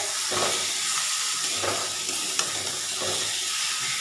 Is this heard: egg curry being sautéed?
yes